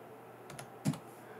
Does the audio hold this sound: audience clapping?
no